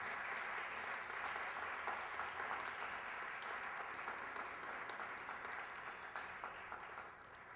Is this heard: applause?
yes